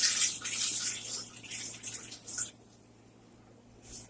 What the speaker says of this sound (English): So I'm just going to dump out the excess water that's separated out over the top.